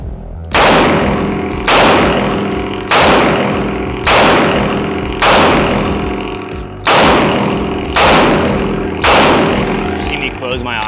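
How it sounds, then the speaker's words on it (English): Eight loud, close gunshots are fired at a target, aiming for headshots. Each shot rings out sharply and fades, spaced about a second apart in an even rhythm. "I'll go for headshots on our same guy that we're just shooting."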